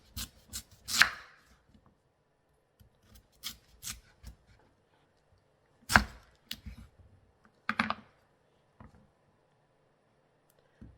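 A knife dices sweet potatoes into half-inch cubes on a cutting board. Crisp, close chops come in uneven clusters with quiet pauses between them.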